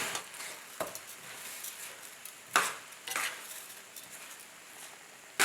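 Paella rice is stirred in a pan with tomatoes, giving scraping utensil strokes and scattered clinks against the metal, a few sharper knocks over a faint sizzling background, no speech.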